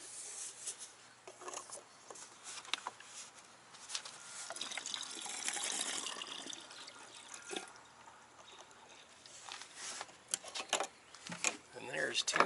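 Diesel exhaust fluid glugs and trickles from a plastic jug into a vehicle's DEF tank, a steady close-up pour with intermittent splashes and gurgles, ending in a few louder knocks.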